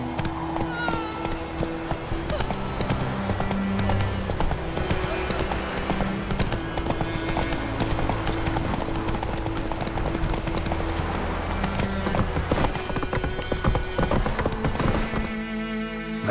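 Roach the horse gallops in The Witcher 3 with rapid rhythmic hoofbeats, steady and close, under game music and voices.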